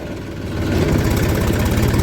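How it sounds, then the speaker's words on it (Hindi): A tractor engine runs slowly along a forest road, a steady low chugging drone that swells slightly louder after the first moment and holds, with no talking. "ट्रैक्टर चल रहा है धीरे धीरे"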